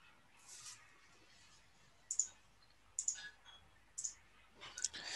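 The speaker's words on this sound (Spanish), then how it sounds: "Dale clic." Computer mouse clicking in a quiet room, four or five crisp single clicks spaced about a second apart, close and alone.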